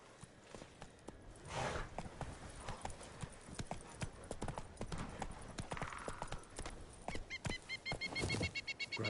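Hooves of Roach, Geralt's horse in The Witcher 3: Wild Hunt, pounding in a steady galloping clip-clop, with other game ambience in the background.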